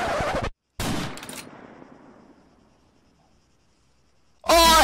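Video game gunfire: a loud burst, a brief gap, then a sharp shot that rings out in a long fading echo. Silence follows before another loud blast cuts in at the end.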